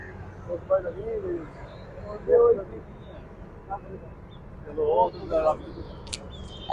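Kept pigeons coo in soft, low bursts at intervals against a quiet background hum, beside the Ravi River in Lahore.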